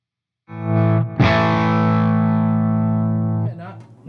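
Electric guitar with gain through a ZUTA GBG120 rackmount amp, a loud distorted chord struck after a short silence and left ringing for about two seconds before being muted, with a brief pick noise before the main strum.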